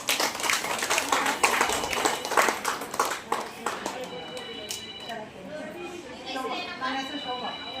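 Audience clapping at a health awareness gathering in Davanagere, a dense burst of many hands for about four seconds that then thins into scattered claps under a low murmur of talk.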